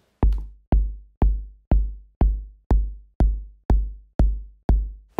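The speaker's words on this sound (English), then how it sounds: "You can hear the click adds a little bit more of crispness." Electronic kick drum layered with a small click sample, nine evenly spaced punchy thumps with a sharp crisp attack and deep decaying boom, alone with silence between hits.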